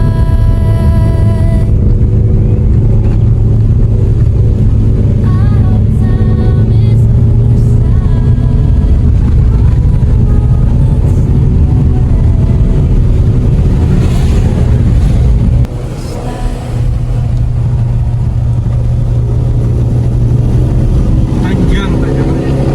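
A car engine labours in low gear up a long, steep mountain road on a road trip to Dieng, a loud, steady drone with wind buffeting the microphone and a brief dip partway through.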